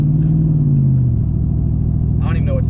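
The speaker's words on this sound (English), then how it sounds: "I'm literally putting the weight of my foot on it and it downshifts out of 10th into 9th" A car engine drones under heavy throttle, its pitch dropping smoothly as the automatic transmission downshifts from tenth to ninth gear. The steady, close rumble carries on while someone talks over it.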